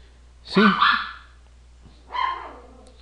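A small dog, about 20 to 30 centimetres tall, gives two close, loud barks, a strong double yap followed by a softer, whining bark, with quiet pauses between them.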